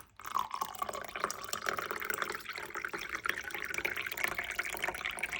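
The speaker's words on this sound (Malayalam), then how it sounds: "അതിനകത്തേക്ക് കോക്കനട്ട് വാട്ടർ ആഡ് ചെയ്ത് കൊടുക്കുക" Coconut water is poured into a glass of strawberry punch made with honey, a soft continuous trickling and splashing of liquid, close and steady with no voices.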